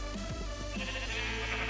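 Sheep in Minecraft bleating in two or three short, wavering calls, heard close and clear over a steady layer of game music.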